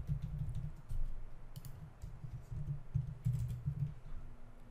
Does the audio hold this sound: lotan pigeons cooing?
no